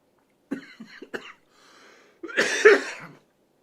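A man coughs after sipping Knockando 12-year Scotch whisky: a few short throaty coughs, a brief pause, then one harder, rougher fit of coughing, close and alone.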